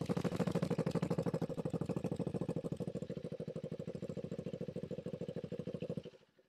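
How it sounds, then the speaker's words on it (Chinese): A 2024 Benelli motorcycle idling, its exhaust giving a steady, even low throb with a rapid regular pulse, close and alone, fading out at the very end. "怠速排气声浪"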